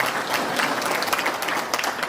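An audience at a 2021 Dooars Newar (Pradhan) Association governing body meeting applauds to welcome a member, producing dense, continuous clapping that stays fairly even throughout.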